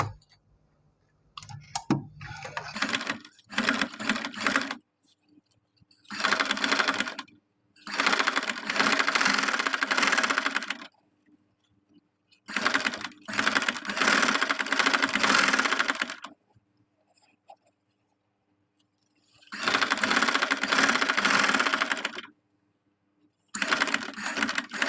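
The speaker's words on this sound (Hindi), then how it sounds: "ये जो पल्टा की डोरी है इसके साथ साथ लगा लेनी है एक सिलाई।" Sewing machine stitching along the drawstring channel of a fabric trouser hem, running in several loud, steady bursts of a few seconds each, separated by short pauses and light handling clicks.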